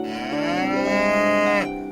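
A single cow moos once, a loud, close, drawn-out low call lasting over a second before cutting off.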